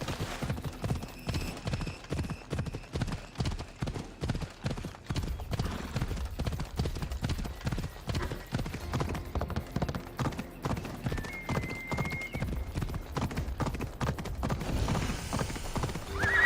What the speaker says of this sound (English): I thought Adonis could make good use of this horse.